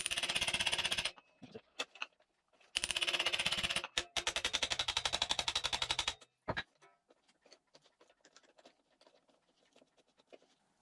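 An impact screwdriver struck with a hammer while working on a screw on a KXF 250 dirt bike, two bursts of rapid loud metallic clatter and scraping, then scattered quieter clicks and taps.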